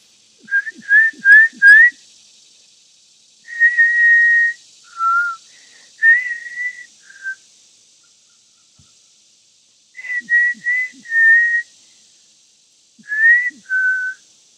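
A person whistles short tuneful phrases in bursts, several quick chirpy notes then longer held tones, with pauses of silence between groups; clear and close, no talking.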